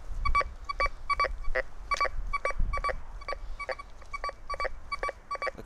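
A Golden Mask Coin Killer metal detector with a 9-inch Spider coil sounds over cigarette-pack foil, giving a steady series of about a dozen short, sharp electronic beeps in quick rhythm with a low rumble beneath.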